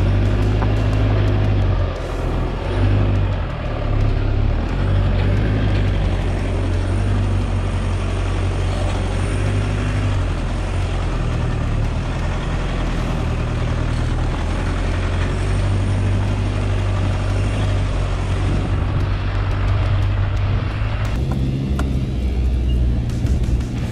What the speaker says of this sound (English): I've just thrown it into 4-wheel drive and see how we go